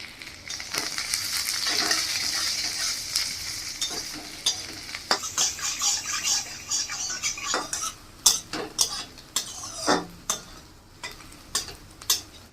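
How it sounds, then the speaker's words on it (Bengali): Garlic, onion and chilli frying with dried fish in a kadai, a bright sizzle underneath a run of sharp metal spatula scrapes and clanks against the pan that grow more frequent and pronounced toward the end. "রসুন পেঁয়াজ দিয়ে দিচ্ছি, লঙ্কা দিয়ে দিচ্ছি।"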